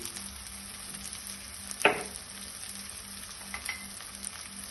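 Chili, turmeric and coriander powders sauté in a pan with a low, even sizzle, broken by one sharp scrape or clink of a spoon near the middle.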